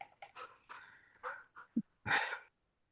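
A wet dog shifts about on a couch, making soft scattered rustles and scuffs, a faint snort or whine, and a brief louder shuffle before it falls quiet.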